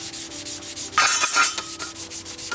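A barbecue grill grate being scrubbed clean, a steady series of close rubbing and scraping strokes that swell louder midway and continue in short bursts, with no talk over them.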